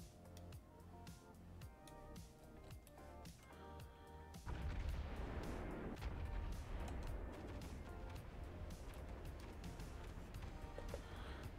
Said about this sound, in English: Bombardment artillery, which is located all along the bottom.